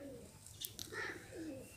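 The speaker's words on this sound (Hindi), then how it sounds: "मेरे घर परिंदे पानी पी रहे हैं" Birds, likely pigeons, make soft cooing calls at a home in the morning, where they drink water. A couple of brief chirps mix in, all moderately close over a steady background hiss.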